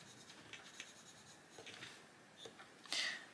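Colored pencil shading on paper in a coloring book: soft, intermittent scratchy strokes in short bursts, fairly close and quiet, ending with a brighter, louder scrape.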